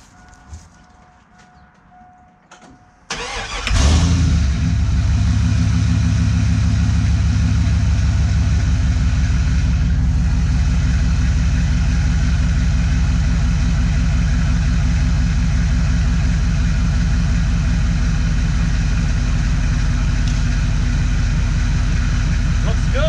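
A tow truck engine cranks over and starts after a few quiet seconds, then settles into a loud, steady, low rumbling idle that continues throughout with minor fluctuations.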